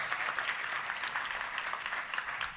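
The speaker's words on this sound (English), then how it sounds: "Let's give everybody a round of applause for purchasing those." Audience at a touchdown club luncheon gives a short round of applause, a fairly faint, steady patter of clapping with no one talking.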